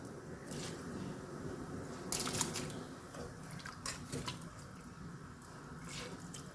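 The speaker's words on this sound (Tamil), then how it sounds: "இந்த மாதிரி தண்ணி ஊற்றி வச்சு" Hot water poured gently over cooked rice, a soft close splashing and dripping with small wet squishes, no voices.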